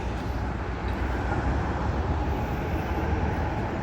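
Tram passing in Adelaide, a close, steady broadband rumble of wheels and motor that fills the short moment without a break and with no voices.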